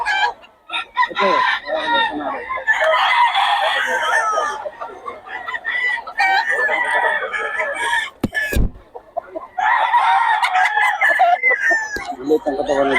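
Roosters crow and chickens cluck repeatedly at a chicken farm, loud and close, with brief handling noises between calls and people talking nearby.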